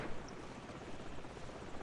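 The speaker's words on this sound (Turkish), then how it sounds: "Haydi helikopter geliyor" A helicopter approaches in the video game Call of Duty 4 Modern Warfare, a faint, steady rotor drone that holds evenly throughout.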